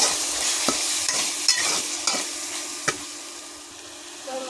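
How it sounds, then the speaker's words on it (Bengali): Spices fry with goat fat and potatoes in a pan under a constant sizzle, with a spatula scraping and clinking through them in irregular close strokes. "মশলা ভালো করে কষিয়ে নেব।"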